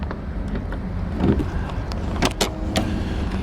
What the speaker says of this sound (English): It's a good sounding, good running motor.